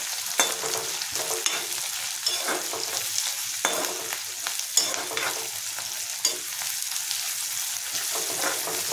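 Onions with salt frying on medium flame in a pan, a steady close sizzle with a spoon stirring through and a few sharp scraping clicks.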